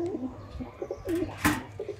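Pigeons coo in a soft, repeated rhythm while a parent feeds its young chick close by, with a brief rustle or flutter partway through.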